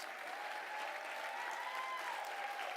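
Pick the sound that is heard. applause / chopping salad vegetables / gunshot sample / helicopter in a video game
applause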